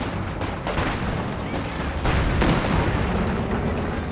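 An Su-85 tank gun fires in a World War II battle game, with loud booms and cracks in a dense, continuous din of battlefield gunfire and explosions.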